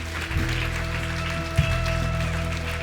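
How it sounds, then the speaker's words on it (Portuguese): A church congregation claps in praise during a service, a fairly soft wash of applause over a sustained low organ or keyboard drone, with a couple of louder thumps. "dê uma forte salva de palmas ao Senhor"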